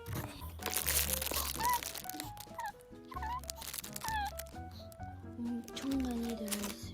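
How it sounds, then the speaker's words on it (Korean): Gift packaging crinkles and crunches close by during an unboxing, in steady bursts of crackling plastic and paper handling, while a voice talks over it. "추석 감사절 선물을 언박싱 해보겠습니다."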